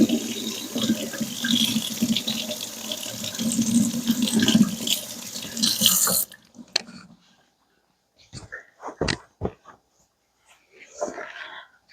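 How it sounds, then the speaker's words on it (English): Tap water runs steadily into a sink while hands are washed for about six seconds, then cuts off, followed by a few faint drips and small handling sounds, close by. "Let me wash my hands because they're sticky now."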